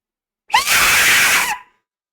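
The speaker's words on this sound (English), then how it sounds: "Sounds like a scream." A single loud, sustained scream bursts in and holds for about a second before cutting off, with nothing else around it.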